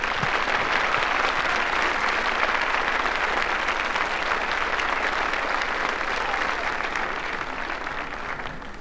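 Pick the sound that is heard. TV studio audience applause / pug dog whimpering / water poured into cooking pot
TV studio audience applause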